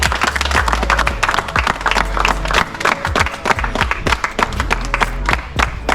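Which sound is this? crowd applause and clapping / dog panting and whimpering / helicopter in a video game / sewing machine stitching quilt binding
crowd applause and clapping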